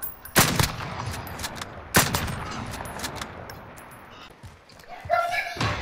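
Light machine gun fire in the Warzone video game, with two loud bursts of rapid shots and further scattered shots, heard under and between players' voice chat.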